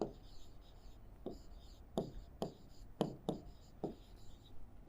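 Pen writing notes during a chemistry lecture, a few close, faint scratching strokes spaced about every half second, separated by short pauses.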